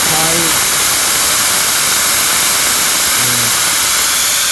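A cordless 20V handheld tire inflator runs on a 15-inch tire, giving a loud, continuous whirring hiss throughout, with brief tonal voice-like snippets mixed in.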